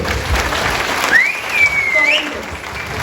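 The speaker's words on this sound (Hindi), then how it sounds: "तो जोरदार तालियां आप सबको" A crowd at a Modicare gathering in Hyderabad gives a short burst of hissing, rain-like applause, with a thin whistle sliding over it midway.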